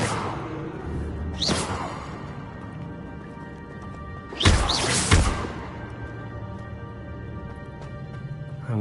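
Expelliarmus spell cast in Hogwarts Legacy: two sharp magical whooshing bursts with a crashing impact, the second louder, over a steady game ambience with no talk.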